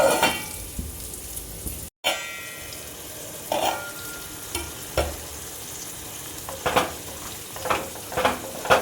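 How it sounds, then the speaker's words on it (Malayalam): Second coconut milk is stirred into a Kerala olan curry of jackfruit seeds and snake gourd, with soft intermittent scraping and stirring strokes against a pan over a low bubbling background and a brief silent gap. "നാളികേരത്തിൻ്റെ 2 പാൽ ഒന്ന് ഇളക്കി കൊടുക്കാം"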